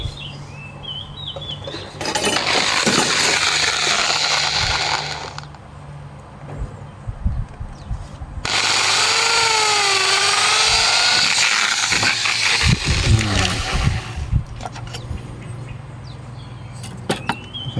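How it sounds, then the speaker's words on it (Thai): A power drill bores a hole in wood for a homemade rat and mongoose trap, running in two loud sustained bursts of roughly three and six seconds with a wavering motor whine, separated and followed by quieter handling clatter. "จากนั้นเราก็จะมาเจาะรู"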